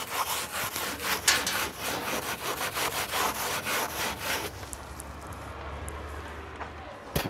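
Number 2 steel wool rubbed back and forth over old wood, a rhythmic scratchy scrubbing of quick strokes that slows and fades to faint rubbing.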